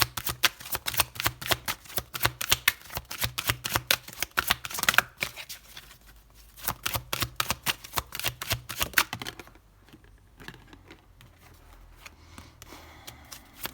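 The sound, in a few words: shuffling tarot cards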